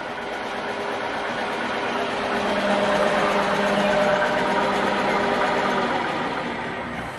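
In first gear, the transmission of an electric tractor conversion spins steadily, a continuous even mechanical whir and hum at moderate level with no talk.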